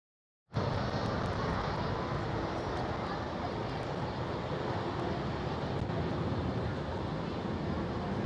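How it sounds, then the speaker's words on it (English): A Delta Airlines airliner pushing back at Amsterdam Schiphol airport produces a steady, continuous jet engine roar that starts abruptly and holds at an even level, with no voices. "Delta Airlines pushing back right now from the Delta"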